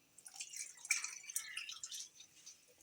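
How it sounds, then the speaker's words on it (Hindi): Water splashes and gurgles as it is poured over chickpeas in a cooking pot, soft and close, with a few brighter trickles and drips over a quiet background. "अब इसके अंदर मैं इतना पानी डालूंगी कि ये चने डिप हो जाए।"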